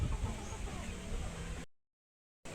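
Chickens cluck and rustle close by inside a backyard chicken coop, a dense, steady stretch of fowl noise that drops abruptly into silence, then resumes briefly at the end.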